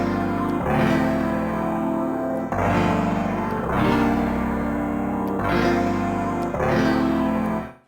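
Dark, heavily processed piano preset from the Tekno Keyz VST plays loud sustained chords, struck roughly every one and a half seconds, with distorted, echoing, chorus-thickened tails and no voice.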